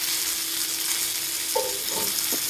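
Fish frying in a pan in a home kitchen, a steady broadband sizzle running throughout with a few brief clinks from stirring or turning, close and fairly loud.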